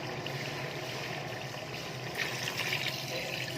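Water being poured into a pot of spiced dal rice with fried masala and softened potatoes, a steady gushing and splashing that swells slightly toward the end.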